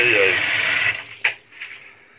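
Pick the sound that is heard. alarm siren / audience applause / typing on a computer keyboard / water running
water running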